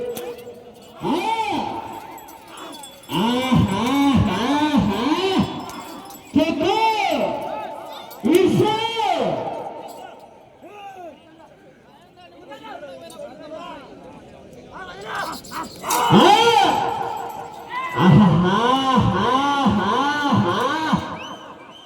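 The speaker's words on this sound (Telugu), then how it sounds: "కేకలు కేరింతలు" A crowd at a village race shouts and cheers in loud, rising bursts that come in waves, with excited voices overlapping and brief lulls between surges.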